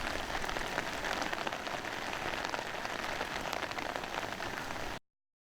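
Steady rain falls during an approaching typhoon, a dense, even hiss of drops on surfaces that holds constant for about five seconds and then cuts off.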